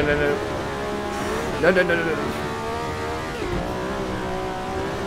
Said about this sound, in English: Listen to this wonderful V12.